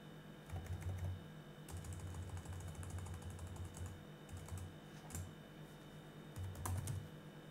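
Computer keyboard being typed on to enter a MySQL root password during a Linux WordPress setup, with quick bursts of key presses separated by short pauses over a low steady hum; quiet and close.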